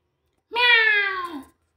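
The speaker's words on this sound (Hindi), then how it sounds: "मानो शेरनी बिल्ली की आवाज में दहाड़ी" A cat lets out a single loud, drawn-out yowl, harsh and roaring like a lioness, rising then slowly falling for about a second before stopping, heard alone against silence.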